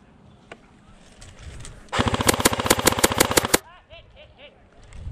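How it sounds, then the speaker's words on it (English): A fully automatic airsoft gun rattles off a rapid, loud burst of around a dozen evenly spaced shots lasting under two seconds during an outdoor airsoft game, with players talking before and after. "That's a fully automatic gun?"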